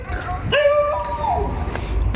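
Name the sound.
dog barking in park at night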